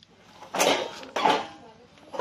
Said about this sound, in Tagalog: lagay natin yung socket yan so dapat may marinig yung click sound